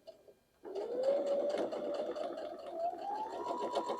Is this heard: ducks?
no